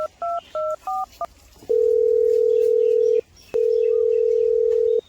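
Touch-tone keypad beeps from a mobile phone as a number is dialed, four quick paired-tone presses followed by two long steady ringback tones separated by a short gap, clear and close with no talking.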